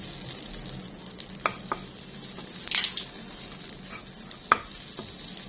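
Shrimp paste being stir-fried in a hot wok for a Thai minced pork dish: a soft steady sizzle with occasional sharp scrapes and clinks of a spatula against the pan, close and moderately quiet.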